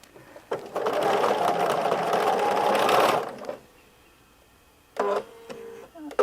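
A sewing machine stitches steadily for about two and a half seconds with its motor whirring at a constant foot-pedal speed. It stops, then gives two short bursts near the end, piecing a mystery quilt block.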